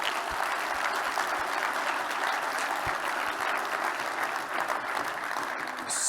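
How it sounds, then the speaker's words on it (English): A conference audience applauds steadily, dense clapping sustained from start to finish at a moderate distance. "So let's give them a big round of applause."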